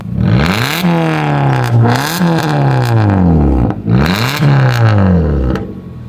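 A modified Maruti Baleno top-model engine revs hard several times, pitch climbing and dropping with loud exhaust roar and crackle, close by and continuous.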